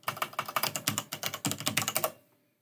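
Fingers type a search into a computer keyboard in a quick, uneven run of close, crisp keystrokes that stops abruptly after about two seconds.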